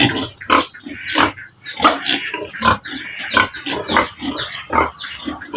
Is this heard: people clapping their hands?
no